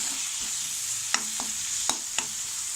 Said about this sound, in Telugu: ఆనియన్స్ బ్రౌన్ కలర్ వచ్చిన తర్వాత మనం చిల్లీ పౌడర్ యాడ్ చేసుకోవాలి. ఇది కూడా మొత్తం కలిసే వరకు కలుపుకోవాలన్నమాట.